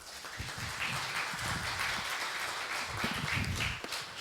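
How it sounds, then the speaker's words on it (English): An audience at a Ruby programming conference applauds after a talk, a soft, fairly distant patter of clapping that holds steady for a few seconds. "please give a round of applause for her."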